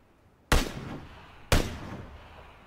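Two loud, sharp gunshots in a video game, spaced about a second apart, each with a short decaying tail, and no talking.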